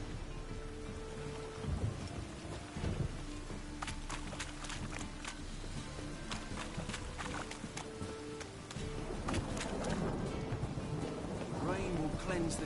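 Steady rain patters through a city street in The Witcher 3, with low thunder rumbling beneath it and brief sharp crackles, the downpour swelling louder toward the end.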